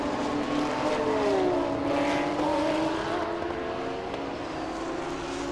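Two race cars, a Honda NSX and a Lexus, run side by side on a circuit in the Thailand Super Series, their engines droning loudly together with shifting whining pitches that hold steady throughout.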